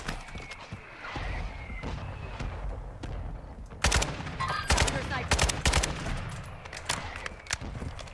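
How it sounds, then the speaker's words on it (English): In a video game, a mortar strike lands as a cluster of sharp, rapid explosive bursts and gunfire cracks over a few seconds, set against quieter background battle noise. "Mortar strike inbound."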